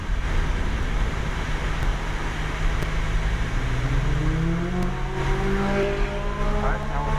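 Supercars on a real race track roar past at speed, engine tone rising and sweeping up in pitch as they close in, under a steady wash of in-car road and wind noise.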